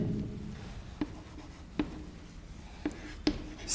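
Chalk or marker writing on a board during a chemistry lecture, heard as a few sharp taps and short strokes spaced about a second apart over a quiet room hum.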